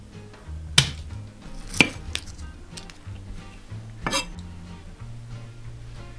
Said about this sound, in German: Jetzt schneiden wir Knoblauch.